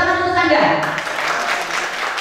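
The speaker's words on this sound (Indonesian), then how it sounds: "tepuk tangan untuk Canda" A short burst of applause from an audience at a kethoprak traditional theatre discussion event, dense clapping rising over a speaking voice and then carrying on as a steady wash of hands.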